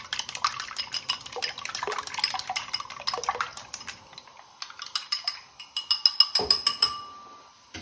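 Chopsticks whisk eggs for an omelette in a bowl, giving a quick run of light clicks and taps against the sides, close and fairly crisp, with a faster rhythmic burst of tapping near the end.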